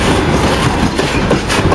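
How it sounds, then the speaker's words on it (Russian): A freight train passes with an old grain hopper wagon, loud and close, a continuous heavy rumble with rhythmic clickety-clack of wheels over rail joints. "Это старенький зерновоз."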